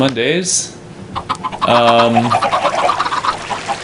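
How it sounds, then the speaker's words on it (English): Chickens cluck and squawk inside an Iron Golem spawner in multiplayer Minecraft. Loud game clucks come in a few bursts, mixed with someone talking. "the sound you're hearing right now are the horrible chickens"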